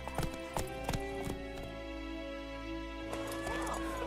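Roach, Geralt's horse in the video game The Witcher 3, trotting with steady, close hoof clip-clops over a low ambient game music bed.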